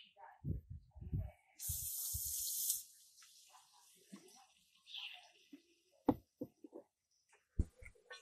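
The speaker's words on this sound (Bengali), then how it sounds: "এখন এগুলোরে কিছু সময় একটু ভুনে নিমু" Spice paste for shrimp and greens hits a hot pan on a clay stove with a sudden loud sizzle lasting about a second, surrounded by scattered clinks, scrapes and utensil knocks.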